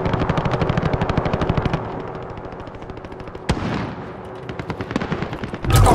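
A machine gun fires in the Call of Duty: Modern Warfare Warzone battle royale, with rapid sustained bursts of close, loud automatic fire, a pause, then further volleys and a sharp blast near the end.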